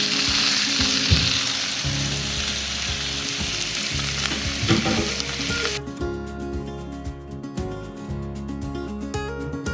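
Mushrooms fry in a pan with a loud, dense sizzle. A low tonal hum sits underneath, and the crackle thins out halfway through.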